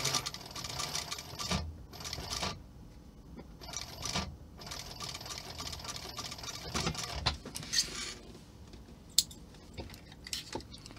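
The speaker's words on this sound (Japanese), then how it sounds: "ミシンいいでしょ、" A sewing machine stitches leather at a leathercraft workbench. It runs in close, rapid mechanical bursts separated by short pauses, with small clicks and taps of handling in between.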